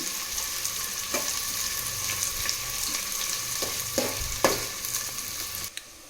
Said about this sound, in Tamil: இப்போ வெங்காயம் சேர்த்தாச்சு, வதக்கி விட்டுக்கலாம்.